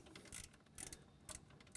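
A 5/16-inch wrench works a self-tapper ground screw loose, giving quiet clicking ratchet-like bursts at roughly regular half-second intervals, faint and close.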